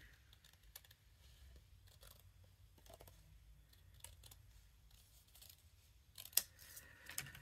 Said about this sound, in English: Just cut these in squares